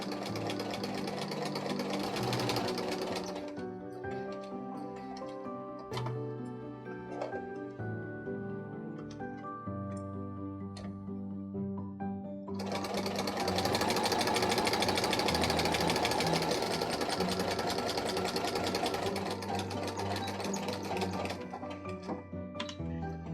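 A sewing machine runs top stitching around the edge of a water-resistant picnic blanket in steady mechanical bursts, pausing briefly near the middle before resuming louder and continuing to the end.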